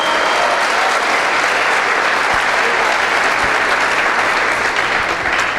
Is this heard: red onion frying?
no